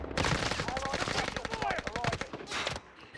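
Rapid sniper and rifle gunfire in Call of Duty Warzone cracks out in a dense, continuous volley of loud shots, with brief pauses and a final burst near the end.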